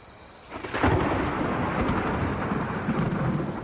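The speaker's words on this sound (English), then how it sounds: "All the plants in a tropical rainforest depend on these torrential downpours for survival." Torrential tropical rainforest downpour with thunder: dense roaring rain rises after a brief quiet start, with deep rumbling thunder beneath, steady and loud to the end.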